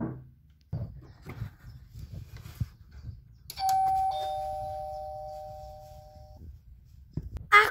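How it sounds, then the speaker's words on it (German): A doorbell at the entrance of a new house gives a single sustained electronic chime lasting a few seconds, set between soft footsteps and shuffling in a quiet entryway. "wollen Sie klingeln?"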